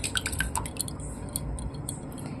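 Liquid pouring and dripping into a washed bowl while setting homemade curd, with light clinks of dishware over a steady trickle, close and moderately quiet.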